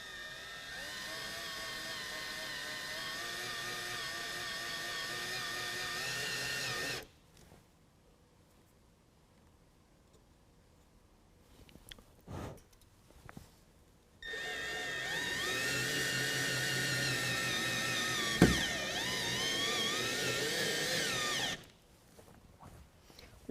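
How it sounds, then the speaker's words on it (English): A cordless screw gun fitted with a Phillips bit drives screws into a Gator MT tonneau cover on a 2019 Chevy Silverado, whirring loud and steady in two long bursts separated by a quiet pause with small clicks. "use a screw gun with a Phillips head attachment, and sit it on top and drill it in"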